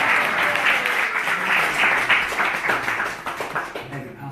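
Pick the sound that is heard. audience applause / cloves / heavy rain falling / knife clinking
audience applause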